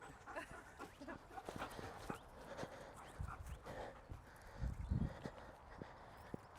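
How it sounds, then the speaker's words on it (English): A tireless dog moves around close by, with panting, scuffling steps and soft whimpers against rustling outdoor background noise. "This dog don't get tired."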